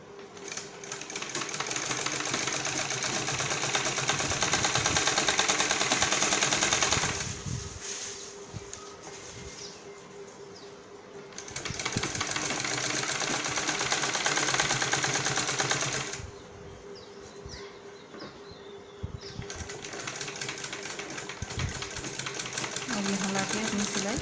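Sewing machine stitching a ladies' sherwani-style suit, running in long steady bursts of rapid mechanical chatter that stop and restart several times, close and loud, with quieter handling noises in the pauses.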